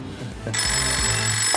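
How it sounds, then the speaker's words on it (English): An old-style telephone bell starts ringing partway through, loud and continuous after a brief stretch of low background sound and movement. "That's the phone."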